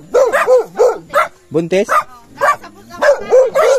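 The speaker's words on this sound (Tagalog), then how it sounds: "Mga aso sa bahay" Dogs at a home bark in a quick run of loud, close yips and woofs, some of the calls rising and whining, with a brief spoken word in between.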